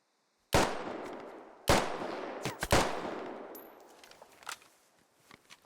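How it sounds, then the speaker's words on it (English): Gunfire in the military shooter Squad: three heavy, echoing shots followed by a quick pair and then fainter distant pops, each cracking loudly before a long reverberant decay. "Shots are lighting all around Bartok"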